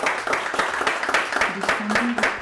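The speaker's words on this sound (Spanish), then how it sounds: "un fuerte aplauso para el Señor" Applause for the Lord at a Bible-study gathering of workers, a steady patter of many hands clapping for about two seconds, with voices mixed in underneath.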